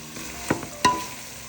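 Chicken biryani masala cooking in released oil in a pot, with a couple of sharp stirring scrapes and sizzling bursts over a quiet, low background.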